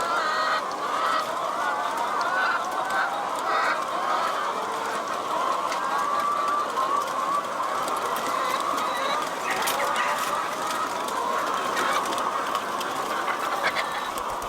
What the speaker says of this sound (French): Vous n'avez jamais vu un poulailler.